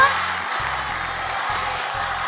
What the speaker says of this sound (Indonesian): Boleh tepuk tangan dong untuk mereka ini semuanya.